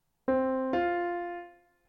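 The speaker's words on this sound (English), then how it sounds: "the first note is C4 and the second note is F4" Two piano notes, C4 then F4, struck one after the other, ringing out clearly and fading away.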